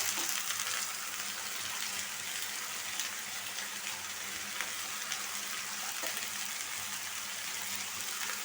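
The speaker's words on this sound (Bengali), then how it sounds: "লাউয়ের খোসা আর একটা আলু বড় সাইজের একটা আলু নিয়ে নিছি ভাজি করবো" Bottle gourd peel and a large potato frying with browned onion in a pan, giving a dense, continuous sizzle that stays close and even throughout.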